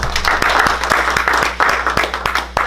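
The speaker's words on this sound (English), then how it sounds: "Give it one more round of applause." A short burst of audience clapping at a talk, individual claps landing in a quick, slightly irregular rhythm, with a speaking voice over it.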